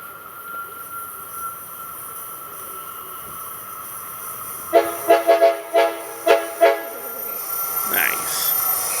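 Passenger train 774 arriving at the Simi Valley depot, with a steady rumble and hum followed by a series of six sharp, loud horn or bell blasts, then quieter rolling noise.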